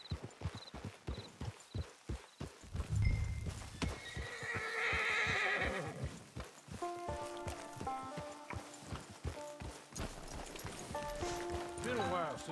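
A horse in the Red Dead Redemption 2 video game clip-clops along in a steady walking rhythm, snorting and whinnying partway through, while characters talk and a few musical notes sound over the hoofbeats.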